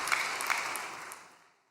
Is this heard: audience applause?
yes